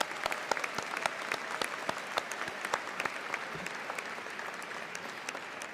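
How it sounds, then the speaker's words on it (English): Applause from a commencement audience, with sharp individual claps standing out over a softer mass of clapping, fairly distant and continuous throughout, no talking. "Give them a round of applause while they're adorning their pins."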